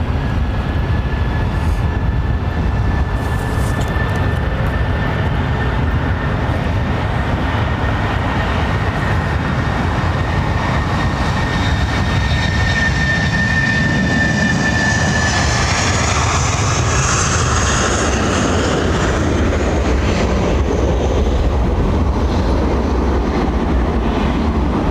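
Steady, loud whirring roar of GE jet engines on an aircraft at London Heathrow Airport, a high whine drifting over broad rumbling noise that swells near the end, with no talking.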